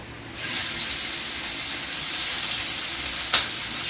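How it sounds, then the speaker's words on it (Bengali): Bata fish coated with cumin powder, turmeric and salt drop into hot oil, setting off a sudden loud sizzle that holds steady and close, with a small spatter burst near the end. "তেলটা গরম হয়ে গেছে আমি মাছগুলো ছেড়ে দেব"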